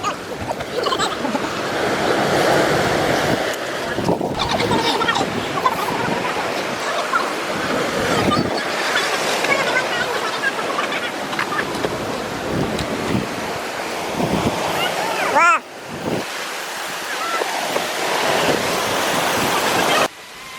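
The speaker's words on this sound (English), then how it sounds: "It's the waterfall into the ocean." A waterfall pouring into the ocean at Montezuma, Costa Rica, a loud, steady wash of falling water and surf mixed with wind buffeting the microphone throughout.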